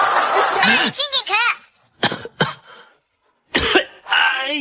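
A sick man coughs repeatedly in a cartoon, with several sharp bursts separated by short pauses and a voice speaking between them.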